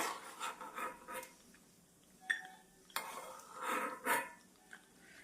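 Fried cashews are moved from hot ghee into a bowl with a metal utensil, producing faint, scattered clinks and scrapes of metal on cookware in a quiet kitchen.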